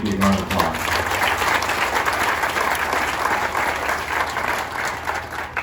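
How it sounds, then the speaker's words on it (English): A large audience at a West LA VA soldiers' home event gives a sustained, loud round of applause for Representative Sherman, dense even clapping holding steady throughout, with some crowd murmur beneath. "So we should give Representative Sherman a big round of applause."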